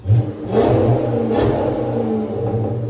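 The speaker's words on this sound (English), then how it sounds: "FLOWMASTER gives it a distinctive sound." A 2005 Dodge Magnum RT with a 5.7L Hemi V8 and Flowmaster Super 10 exhaust revs close by, a deep, loud engine roar that swells into a couple of blips and then holds a steady throaty drone with no one talking.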